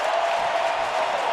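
Dense, steady roar of a large baseball stadium crowd cheering and applauding a home run during a 2012 National League Division Series game, a continuous wash of distant clapping and voices.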